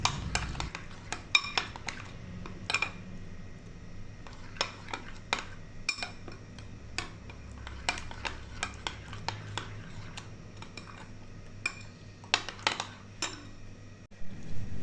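A spoon clinks and scrapes softly in a bowl as chopped vegetables, two eggs and spices are mixed together. The taps and stirring strokes come in an irregular, gentle rhythm, faint and close, with no talking.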